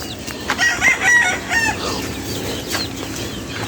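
Chickens and young chicks from a gamefowl line cluck and call close by, with a rooster crowing among them, in a busy, fairly loud stretch of overlapping farmyard fowl sounds.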